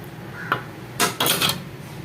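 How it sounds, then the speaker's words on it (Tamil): Bread halwa being stirred in a pan right after milk is poured in: a brief scrape, then a cluster of quick scraping strokes of a utensil against the pan, close and fairly loud, with no voices. "ஸோ அதையும் சேர்த்து நம்ம அப்படியே கலரிடுவோம்."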